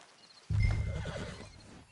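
A horse in the Western game Red Dead Redemption 2 lets out one short, close neigh that rises sharply and then trails off into a breathy whinny. No one speaks over it.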